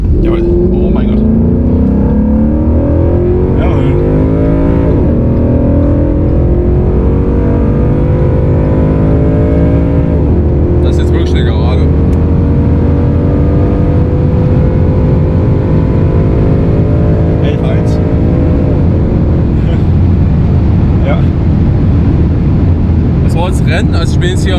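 A Ford Mustang GT 5.0 in track mode on a race circuit accelerates hard, its V8 engine note rising through repeated gear pulls, loud and close from inside the cabin, with people talking over it.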